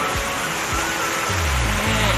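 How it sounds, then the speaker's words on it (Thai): Water spills over a small weir in a rice field with a constant, close rushing wash, broken by a few dull low thumps. "มาดูฝายนะคะ ฝายที่นา นะคะตอนนี้ น้ำยังล้นอยู่ค่ะ"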